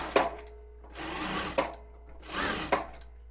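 A Bridgewater R8-S sewing machine runs in three short stitching bursts, each ending with a sharp mechanical clack as it stops, close and fairly loud over a low steady hum.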